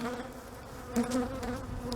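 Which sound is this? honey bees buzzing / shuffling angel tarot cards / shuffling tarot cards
honey bees buzzing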